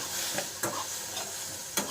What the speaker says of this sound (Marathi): त्या कढईतच गरम करतो आणि घालतो भातावर